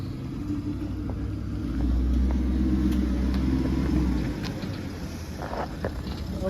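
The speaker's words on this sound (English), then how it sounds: "I always like seeing my car being driven from outside." A Porsche Cayenne driven along and heard from outside, giving a steady low engine rumble mixed with gusty wind noise on the microphone, continuous throughout at moderate loudness.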